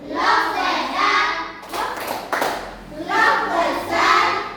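Children in a classroom clap along to a clapping game, with bursts of rhythmic hand claps mixed with young voices, a short pause and scattered taps, then steady group clapping again.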